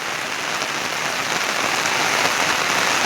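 Monsoon rain in Gujarat pours steadily onto surfaces in a dense, even hiss that holds at the same loud level throughout, with no voices.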